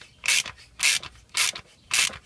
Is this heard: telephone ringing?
no